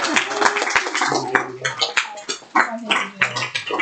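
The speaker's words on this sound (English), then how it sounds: "Everybody clap it up for us." Audience at a talk on SQL injection clapping in a scattered, uneven round, fairly close, mixed with murmuring voices and some shouts.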